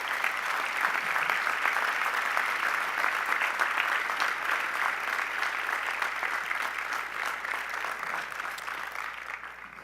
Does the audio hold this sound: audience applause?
yes